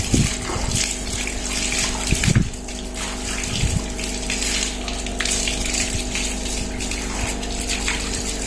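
Water poured onto a tulsi plant, a loud continuous gush and splash close by with a steady low hum underneath and a few louder splashes near the start.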